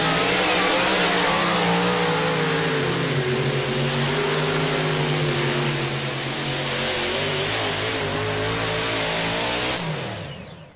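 A super modified pulling tractor at a Lucas Oil Pro Pulling League tractor pull revs hard, a loud, sustained engine roar whose pitch climbs and wavers for about ten seconds before dropping away at the end.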